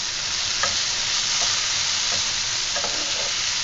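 Radish leaf sabzi stirred in a frying pan, with soft scraping spoon strokes over a steady oily sizzle that continues close and even throughout.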